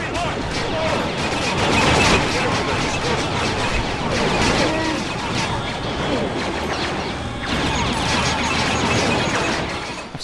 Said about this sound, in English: Just chuck bombs everywhere, my goodness.